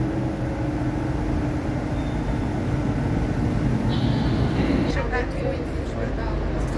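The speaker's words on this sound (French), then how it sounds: "Très beau métro, très large, très propre." Lisbon metro train riding along, a steady loud rumble of wheels and motors filling the car, with a brief higher whine partway through and faint voices in the carriage.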